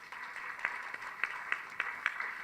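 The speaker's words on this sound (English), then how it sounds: "Give them a big round of applause." Light applause at a Christian academy graduation ceremony, a soft, distant patter of clapping with a few sharper individual claps standing out above the steady background.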